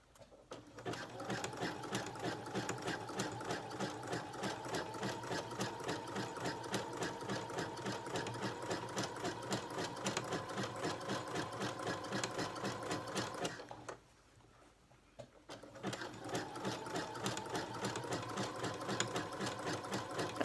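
Sewing machine sewing swim elastic, a close, fast, steady mechanical chatter of the needle running continuously, pausing briefly near the end before resuming at the same rapid pace.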